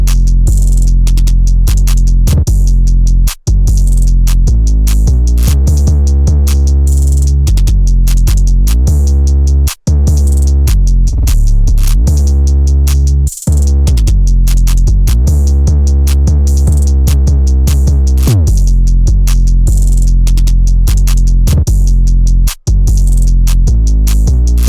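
Hard rock style beat programmed in FL Studio: loud, dense drums with heavy distorted 808 bass, running continuously with a few brief dropouts, no voices.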